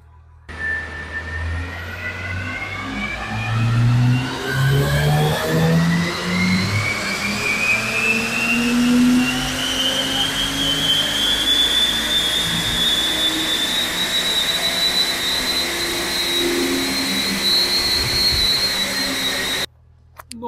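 Chipped Audi S4 2.7 biturbo with a 4x4 drivetrain, run on a dyno: the engine note climbs steadily in one long, loud pull lasting over fifteen seconds, then cuts off abruptly.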